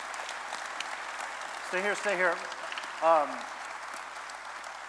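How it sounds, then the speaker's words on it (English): An audience at a church service gives a round of applause, steady clapping held at a moderate level while a voice speaks briefly over it. "Can we give him a round of applause for coming here this morning?"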